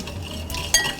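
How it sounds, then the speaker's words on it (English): Metal whisk stirring egg yolks in a pan as a hot mixture is poured in for banana ice cream custard, quick close scraping and a bright clink near the end. "I'm going to pour just a little bit in while I whisk"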